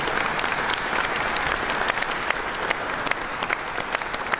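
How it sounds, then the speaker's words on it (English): Loud, sustained audience applause at an outdoor city Veterans Day ceremony and resource fair, dense clapping from a sizable crowd with a few sharper individual claps standing out. "So give John a round of applause"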